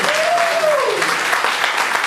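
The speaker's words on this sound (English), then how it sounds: "Our panelists another round of applause" Audience at a closing panel event gives another round of applause for the panelists, a full, even burst of clapping with a voice briefly heard over the start.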